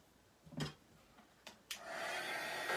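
A heat tool switches on after a few handling knocks and blows a steady, close rush of hot air over textured artwork, continuing without talk to the end.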